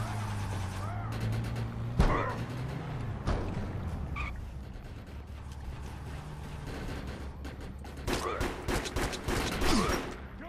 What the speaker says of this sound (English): Man, this pistol's so weak.